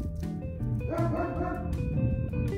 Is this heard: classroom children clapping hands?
no